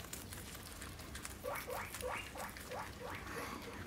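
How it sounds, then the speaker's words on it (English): A pet pig squeaking indoors, a quick series of short rising squeaks in the middle, faint and close, over low rustling patter. "That weaking that you can hear right now is actually Pashmina"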